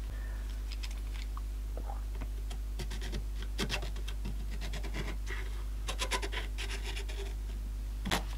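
A fingernail pushes paper along a crevice of a Touchfone telephone to scrape out dirt. Soft, intermittent scratches and light ticks sound close and quiet over a steady low hum, with no voices.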